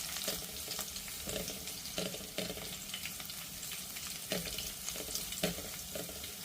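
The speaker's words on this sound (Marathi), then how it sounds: "आपण आलं लसूण आणि मिरची जी घेतली आहे ती टाकायची। थोडीशी बाजूला टाकते। लसूण थोडासा असा लालसर होऊ दे।" Ginger, garlic and green chilli frying in hot oil for a mustard-greens dish, a steady close sizzle with small popping bursts and stirring scrapes throughout, no voices.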